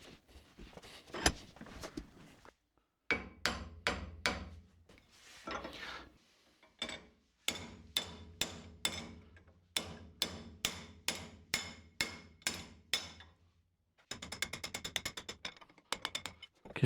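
Hammer blows on a metal bracket clamped in a vise, bending it: sharp, ringing metallic strikes in steady rhythmic runs separated by short pauses, ending in a fast flurry of lighter taps.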